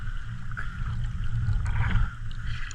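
Rough sea water slaps and churns around a small boat on a diving outing, a steady low rumble with continuous washing noise close by throughout, no voices.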